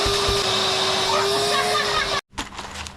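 A vacuum cleaner used on a wet surface runs with a steady, high whine, then cuts off abruptly near the end before faint noise and movement resume.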